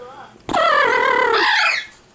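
An Amazon parrot named Lucky lets out a loud, wavering, siren-like screech lasting over a second, rising to a shrill peak before cutting off, with a person's voice faintly nearby.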